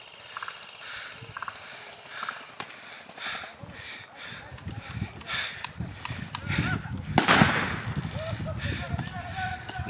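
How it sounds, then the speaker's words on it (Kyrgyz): Pyrotechnics and mortar fire at an outdoor airsoft game open the season, with scattered pops and one loud blast later amid a noisy field, while voices talk in the background. "Пиротехника да жарылды. Миномет менен атышат."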